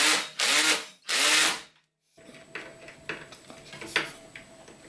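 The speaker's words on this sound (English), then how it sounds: "I'm going to use my electric drill" An electric drill drives screws into the parts of a Wickes tilt and fold workbench, with two loud whirring bursts, a brief silence, then lighter clicking and ratcheting from the drill's clutch mechanism.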